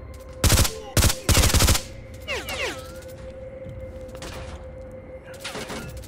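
Loud bursts of automatic gunfire from S.T.A.L.K.E.R. Call of Pripyat, three short close volleys in quick succession, followed by quieter background shots and faint game ambience.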